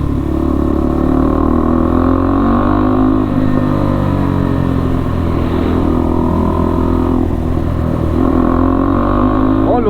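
A 2022 KTM RC 390 motorcycle with a catalytic converter delete and quick shifter runs loud and steady, its engine droning and revving continuously at close range, with a voice talking over it.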